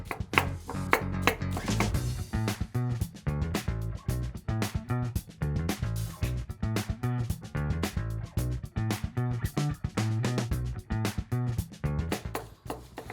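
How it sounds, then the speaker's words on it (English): Onions sliced with a knife on a cutting board for a brisket, giving rapid, steady rhythmic chopping strokes, close and fairly loud, with no talking. "Onions, don't have to be too fancy here about the slicing."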